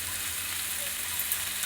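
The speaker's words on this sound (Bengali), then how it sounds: "আমার মিক্সড ভেজিটেবলস ফ্রাই হয়ে গেছে" Mixed vegetables sizzle loudly in a frying pan, a steady close crackle and hiss through the whole brief moment.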